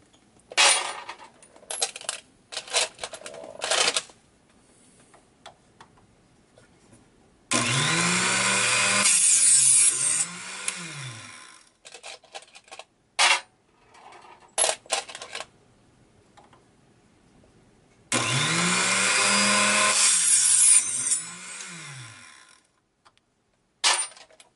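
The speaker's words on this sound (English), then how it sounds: "Is to just cut off the casing right at that shoulder" A saw cuts off 223/556 brass casings at the shoulder in two sustained, loud cutting passes, with scattered clicks and handling knocks of brass and tools between them.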